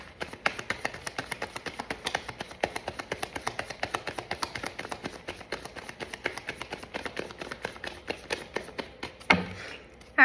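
Tarot cards being riffled and bridged repeatedly at close range, a steady run of crisp, rapid flutters and taps for about nine seconds, ending in a louder clack and rustle as the deck is squared.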